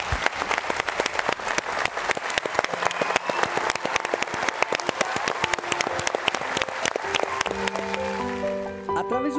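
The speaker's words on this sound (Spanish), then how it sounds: "Un aplauso a él, donde quiera que se encuentre" A TV morning-show studio crowd gives a long, vigorous round of applause in tribute to late actor Raymundo Capetillo, the crisp claps steady throughout as sustained musical tones come in at the end.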